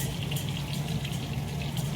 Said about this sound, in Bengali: আলুটাকে প্রথমে ঘি দিয়ে ভালো করে ভেজে নিলাম।